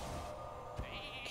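Faint bleat of a sheep created by a Polymorph spell in the Hearthstone card game, a brief game sound effect low under steady background hum.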